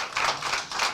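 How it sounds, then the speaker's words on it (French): An audience applauds at a conference on out-of-home food consumption, a short burst of fairly soft clapping heard from a distance. "je pense qu'on peut se redonner le plaisir d'applaudir Nolan, Anissa et Pierre."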